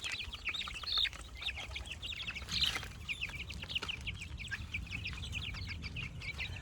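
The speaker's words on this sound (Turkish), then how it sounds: "Sen büyük ihtimalle horozsun lan." A rooster crows amid a busy flock of clucking fowl, steady chatter of bird calls throughout with a louder crow rising near the middle.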